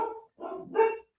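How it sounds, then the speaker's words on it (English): Dogs barking nearby during a casual live chat, three short rough barks in quick succession, moderately loud, with no talking over them. "Speaking of dogs. Yep. You hear them now."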